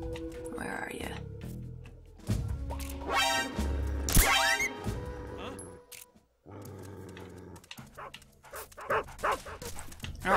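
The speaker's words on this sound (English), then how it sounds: "okay, dog right there." A dog in the stealth game Metal Gear Solid 3 barks in several loud bursts, then whimpers and yips more softly. A player talks quietly over the game sounds.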